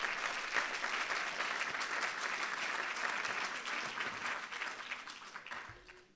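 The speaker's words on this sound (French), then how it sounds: "Je crois qu'on peut vous applaudir à nouveau." A conference audience at a colloquium on multi-activity and slow tourism claps in sustained, even applause, a dense, fairly loud patter that holds steady and then fades out near the end.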